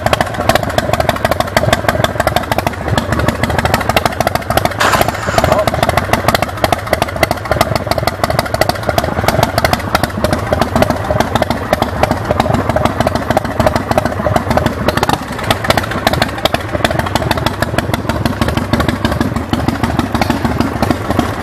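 A 2003 American Iron Horse Slammer motorcycle with a 113-inch S&S motor and six-speed transmission runs steadily close by, its loud, continuous engine rumble and mechanical clatter filling the whole stretch alone, with no talk.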